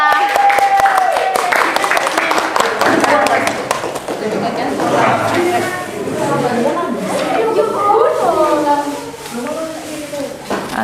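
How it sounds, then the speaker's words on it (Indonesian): Students in a classroom clap together for a group presentation, a dense burst of applause at the start that fades into lively chatter and overlapping voices. "maka kita beri tepuk tangan yang meriah"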